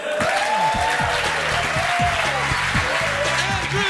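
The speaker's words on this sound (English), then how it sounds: "Give him a big round of applause" A comedy club audience applauds a stand-up comedian, broad steady clapping throughout, with a loud voice and music-like tones running over it.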